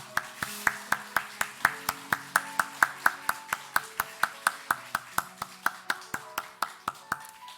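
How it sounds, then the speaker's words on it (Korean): A church congregation claps in welcome during a Sunday morning worship service. Hands strike together in a steady, even rhythm, each clap sharp and distinct, with about three claps a second and no voices over them. "우리 환영과 영광의 박수를 드리도록 하겠습니다."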